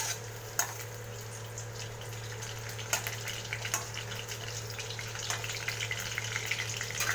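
Potatoes fry in mustard oil in a kadai on a medium flame, making a continuous low sizzle broken by occasional sharp clicks and spatters, with a steady hum underneath.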